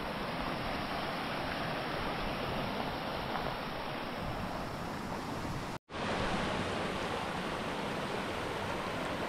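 A mountain stream along a trail near the Aiguilles Rouges nature reserve rushes in a loud, steady wash close by, with a single momentary dropout midway.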